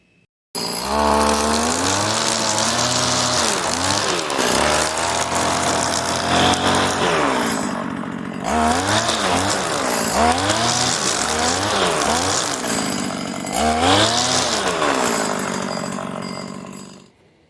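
A repaired Stihl FS 85 string trimmer engine runs loud and close, its two-stroke whine rising and falling through repeated revs, dropping briefly to idle and then climbing again, with no talk over it.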